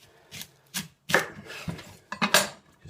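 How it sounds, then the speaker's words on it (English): Onions being chopped with a knife on a board for a caramelised red onion chutney: a handful of separate, close, crisp chops with short pauses between them, and no voices. "first job, chop the onions"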